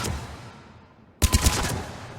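A heavy-recoil gun fires in Mass Effect 3. After about a second of near silence, a quick loud burst of three or four punchy shots rings out and trails off into a fading echo.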